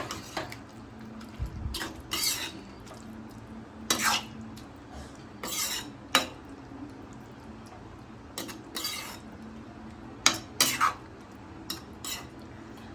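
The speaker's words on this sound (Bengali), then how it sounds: "এবার এর মধ্যে আগে থেকে বাটারে ভেজে রাখা পনির, ক্যাপসিকাম আর টমেটো এর মধ্যে দিয়ে দেব। দিয়ে ভালো করে মিশিয়ে নেব।" A spoon stirring fried paneer, capsicum and tomato into a navaratna korma in a metal pan, with intermittent sharp clinks and scrapes against the pan over a quiet sizzle, spaced every second or two.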